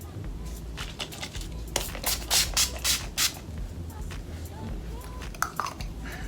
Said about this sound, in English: Spray my face with this Wet n Wild Photo Focus Matte Finish spray